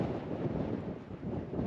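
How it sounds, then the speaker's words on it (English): Strong wind buffets the microphone on the Nullarbor Links golf course, a low rumbling roar that rises and falls in gusts throughout a brief stretch. "Again, very windy."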